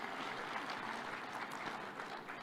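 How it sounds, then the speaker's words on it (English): Applause at a Kenyan government event for Health CS Aden Duale, as a crowd gives another round after his speech. Dense, steady clapping from many hands rolls on without a break, quiet and distant, with no talk. "Another round of applause for Waziri."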